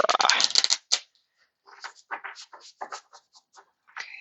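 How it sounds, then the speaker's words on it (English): A quick riffle of cards is followed by scattered soft flicks and taps of cards being handled, close up. "See, there's a bad shuffle"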